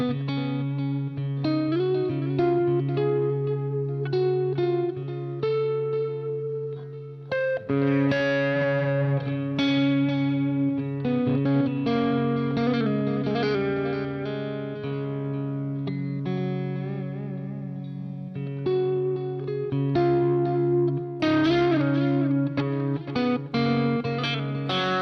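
Distorted electric guitar run through a Soldano SLO-100 amp plugin with heavy reverb and delay, sustained chords and ringing notes washing together in a long, continuous passage with no talking.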